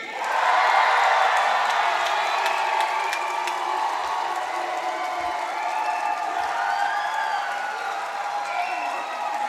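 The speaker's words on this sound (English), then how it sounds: "There's a lot of clapping, but you let the whooping and the cheering die." A large crowd at a university graduation ceremony claps, whoops and cheers loudly all at once, the applause swelling early and holding strong for several seconds.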